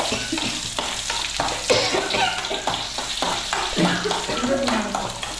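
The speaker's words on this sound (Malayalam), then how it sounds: "ഇനി ഇതിലോട്ട് ഉള്ളി ഇട്ട് കൊടുക്കും" Onions sizzle steadily in a hot pan for a Kerala papaya theeyal curry, with stirring and scraping clatter over the continuous frying hiss, up close.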